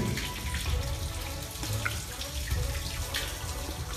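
Water runs steadily from a spring-fed fountain inside Yerküpe Cave in Muğla, Turkey, a continuous close splashing trickle with no talk over it.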